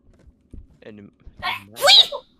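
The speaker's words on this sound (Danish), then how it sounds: "Var det jer, der nøs?" A person sneezes once, loud and close, a sharp burst after some quiet murmuring voices, during a horror game stream.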